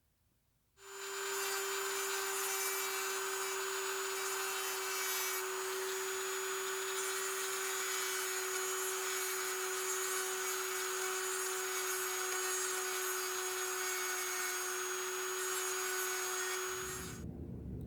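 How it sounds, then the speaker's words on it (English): A Dremel fitted with a diamond bit grinds the edge of the hole on a Plomb No. 708 S adjustable wrench. The whine is steady, high and continuous, starting and stopping cleanly, with no talk. "I'm going to take a diamond bit in my Dremel, kind of clean up the outside edge of that hole on both sides here"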